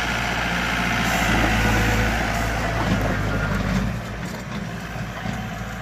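A heavy 2010 John Deere 4320 tractor engine idles loudly and steadily nearby, its deep rumble easing to a lower level near the end.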